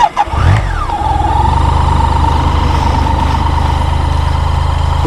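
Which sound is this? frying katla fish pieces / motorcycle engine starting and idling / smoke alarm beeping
motorcycle engine starting and idling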